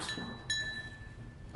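A small bell is rung twice at a meeting, two short bright metallic rings with a lingering tone, fairly faint and alone in a quiet room.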